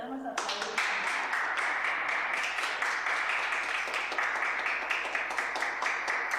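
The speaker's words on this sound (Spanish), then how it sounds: "Solo un poquito podemos aplaudir." Applause breaks out after a same-sex wedding ceremony in Uruguay, a steady patter of many hands clapping close by for several seconds with no talk over it.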